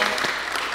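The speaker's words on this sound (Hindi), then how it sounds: "तालियां।" A brief burst of studio audience clapping on a talk show, dense and even, cut off after less than a second.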